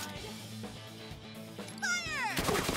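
A cat meows in the video game Persona 5 Tactica, a couple of bright rising-and-falling calls near the end over steady game music and effects.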